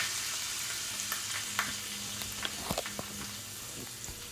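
Hot oil poured over pork knuckle crackles and sizzles steadily, with scattered sharp pops and spits throughout, close and fairly quiet.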